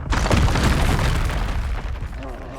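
A Confringo fire spell explodes in the Hogwarts Legacy video game, a loud, sustained booming blast with a dense rumbling body that fades slightly over a couple of seconds.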